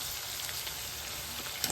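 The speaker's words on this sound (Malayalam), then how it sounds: "ചെമ്മീൻ ഫ്രൈ അടിപൊളി ഫ്രൈ ചെയ്ത് കൊടുക്കണല്ലേ?" Shrimp frying in a pan, a steady close hiss and crackle of hot oil sizzling continuously with a few small pops near the end.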